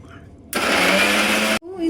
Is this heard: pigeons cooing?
no